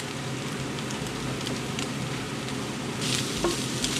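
Onions sizzling in a frying pan, a continuous soft crackle with a brief louder hiss near the end, close by and without speech.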